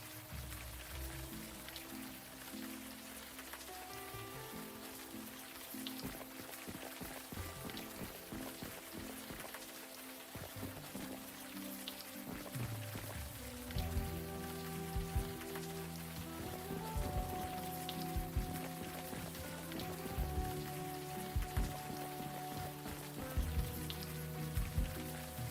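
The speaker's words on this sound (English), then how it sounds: "We will learn nothing standing here in the rain." Steady rain pours down in the video game Unavowed, a constant wash of falling water with a musical score playing beneath it and no talking.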